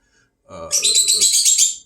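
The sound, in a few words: birds chirping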